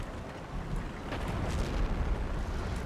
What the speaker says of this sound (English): let's try to get our cannons into range and destroy the enemy artillery.